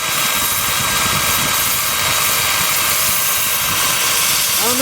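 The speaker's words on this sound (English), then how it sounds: "Time for sanding." Sandpaper hisses against a spinning curly maple bowl on a wood lathe, a steady, loud broadband whoosh under the lathe's hum that continues without a break.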